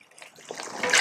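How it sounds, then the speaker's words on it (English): About four cups of water pour into a pot of jollof stew, a short rising gush and splash that grows louder toward the end, close by. "Add all this water"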